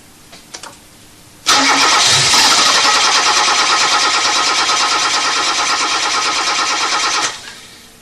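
A Toyota engine with the ignition feed disconnected cranks steadily without catching, a loud, even churning whir that starts abruptly and runs for about six seconds before cutting off, with a few faint clicks beforehand.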